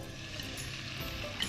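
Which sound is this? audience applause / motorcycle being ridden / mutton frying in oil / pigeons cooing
mutton frying in oil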